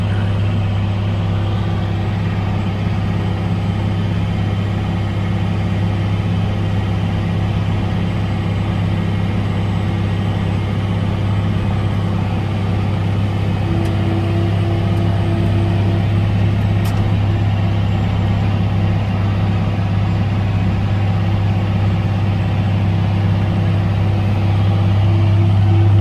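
A Case IH STX450 Steiger tractor's diesel engine runs steadily at idle, a loud, continuous low rumble with a constant hum that holds evenly throughout, with no talking over it.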